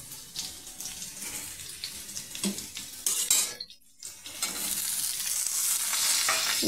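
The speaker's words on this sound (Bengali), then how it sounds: "ঝিঙেটাকে আলুর সঙ্গে ভালো করে নাড়াচাড়া করব।" Ridge gourd stir-fried with potatoes in a pan, a steady sizzle with scraping and stirring noises, briefly pausing before the frying hiss returns louder and continues without talk.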